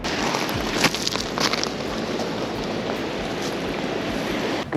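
Black Sea waves wash against the coast at Shabla in winter, a constant broadband rush of surf with faint wind noise and no talking.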